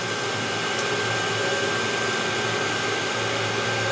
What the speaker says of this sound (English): The heater works great.